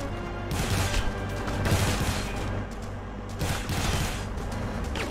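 Dense, continuous gunfire fills a shootout in The Punisher video game, with overlapping bursts and crashes swelling at about 2 and 4 seconds and no talking.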